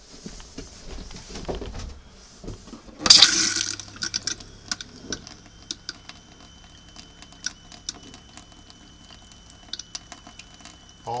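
Water runs from the back sink faucet of a Jayco camper, pink antifreeze spluttering and gushing in irregular bursts, starting with a sudden rush and then sputtering unevenly, close and fairly quiet.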